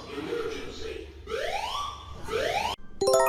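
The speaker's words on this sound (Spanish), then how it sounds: "es el alarma de Japón" Japan's emergency alert alarm sounds as rising, sweeping synthetic tones repeated in phrases, followed by a sharp electronic chime pattern, loud and alone with no talk.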